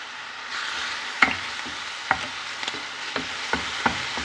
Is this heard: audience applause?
no